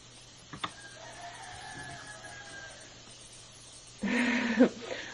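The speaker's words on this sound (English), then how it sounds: "My roosters, they're not really mine, they're neighbors' roosters, because it's morning time." Neighbouring roosters crowing in the morning, a distant faint crow followed by a louder, closer crowing burst near the end, with the outdoor background otherwise quiet.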